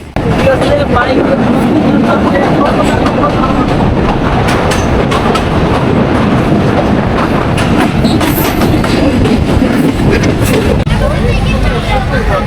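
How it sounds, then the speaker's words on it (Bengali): The Mongla Commuter train in Jashore, Bangladesh rumbles along loudly and continuously, wheels clattering on the rails, with faint crowd chatter underneath. "এই ট্রেনটির নাম মংলা কমিউটার"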